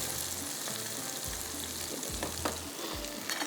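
Red beans browning in a pan on a tawa, a steady close sizzle with repeated scraping stirs of a spatula, low thumps between strokes, no talking.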